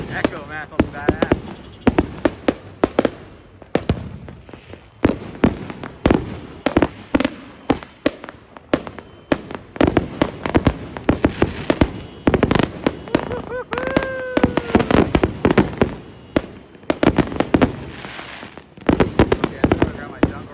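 New Year 2024 fireworks burst in rapid, irregular sharp bangs, some close and loud, others echoing farther off, with crackling and whistles between the reports and occasional voices.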